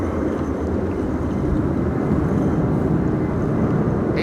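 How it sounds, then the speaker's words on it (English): An EasyJet Airbus A319 lands in high winds at Amsterdam Schiphol during a storm, a steady, broad roar of engine and wind noise heard at a distance, continuous throughout with no voices. "Narrow bodies are coming in right now. This is an EasyJet"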